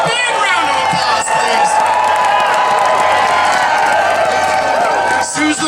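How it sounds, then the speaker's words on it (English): An outdoor crowd at a Canadian Pacific Holiday Train stop in Caledonia, Wisconsin cheers, whoops and claps steadily, a loud continuous swell of voices and applause that dips briefly near the end. "Big round of applause,"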